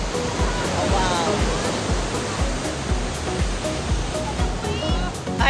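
Ocean waves at high tide roll in at a beach resort, making a steady, loud wash of surf with repeated rushing swells and splashes nearby.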